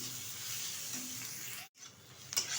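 Goat fat frying in oil in a pan, a steady close sizzle that cuts out abruptly for a moment, then resumes with a faint scrape.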